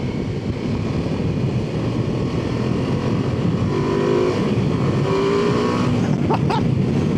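A 2025 Ducati Multistrada V2 motorcycle is ridden on the road, its engine droning steadily under heavy wind rush, with rising rev sweeps near the end, loud and close.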